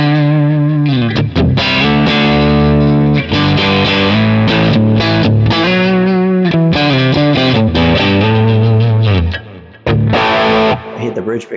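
Distorted crunch electric guitar from a Vox amp model on a Quad Cortex, played as loud, continuous rhythm chords with sustained notes and a brief break near the end.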